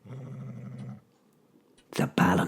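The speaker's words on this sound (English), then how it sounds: "Fenrir's growl filled the room like thunder." A low, rumbling wolf growl from an audio drama rolls on for about a second, then goes quiet before two loud, harsh bursts of growling, close and forceful.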